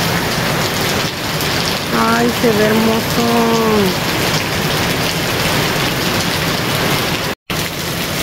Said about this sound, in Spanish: creo que llueve más aquí adentro que afuera.